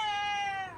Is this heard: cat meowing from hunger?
yes